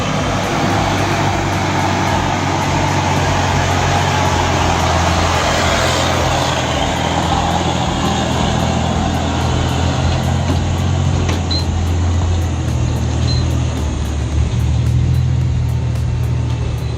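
A Fiat 619 truck drives on, its engine and road noise a continuous broadband roar that stays steady and close throughout.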